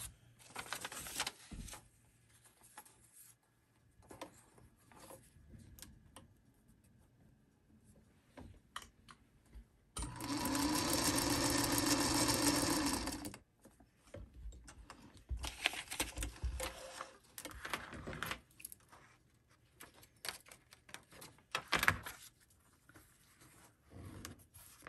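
A sewing machine stitches quilt pieces in one steady continuous burst of a few seconds, set between quiet handling clicks, rustles and taps of fabric and tools.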